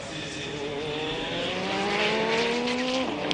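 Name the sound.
Toyota race car passing at Le Mans 1994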